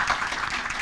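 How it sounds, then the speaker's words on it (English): Brief burst of audience applause at a municipal small business initiative event, a dense, even wash of clapping heard mid-stream and cut short. "So I just want to give them a round of applause for their hard work."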